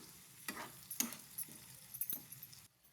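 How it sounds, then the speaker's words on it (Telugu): A spoon stirs cauliflower in a pan for egg curry, giving a few scattered scrapes and clinks against the metal over a soft sizzle, close and fairly quiet. "క్యాలీఫ్లవర్ని వేసి బాగా తిప్పాలి"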